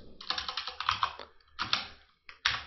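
Keys clatter on a computer keyboard while PHP code is typed, in quick bursts of close, crisp clicks separated by short pauses, with no talking.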